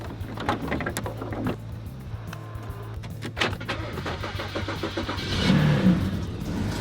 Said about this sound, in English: She starts up.